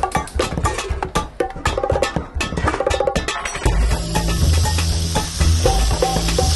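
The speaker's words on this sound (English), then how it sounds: "I'm gonna take it over and fry it on high heat" Lobster tail frying in oil in a pan over high heat, first with loud clattering and scraping as it is handled and turned, then settling into a dense, strong, steady sizzle.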